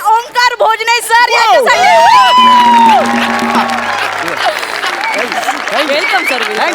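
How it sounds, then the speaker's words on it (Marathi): Studio audience applause and whoops at a Marathi comedy show taping, a loud steady wash of clapping and crowd noise with a host speaking and music playing over it. "एकदा जोरदार टाळ्या झाल्या पाहिजे ओंकार भोजने सर"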